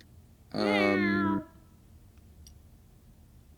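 A single drawn-out cat meow, loud and close, lasting about a second, followed by quiet room noise with faint clicks.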